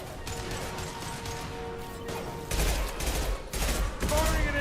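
Rapid gunfire bursts in Mass Effect 2 combat, dense cracking volleys that swell louder partway through and keep going in heavy repeated bursts over a busy battle backdrop.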